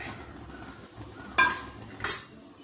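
Gooseberries are tipped into boiling vinegar in a pot for a mango and gooseberry pickle, marked by two bright metallic clanks of a spoon on the pot over a quiet, low background.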